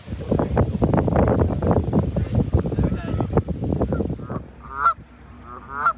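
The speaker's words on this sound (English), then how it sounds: "Got some Gettysburg geese at the bottom of Little Round Top" Geese honk repeatedly nearby at the bottom of Little Round Top, Gettysburg, a series of loud nasal calls, with wind buffeting the microphone and people talking in the background during the first half.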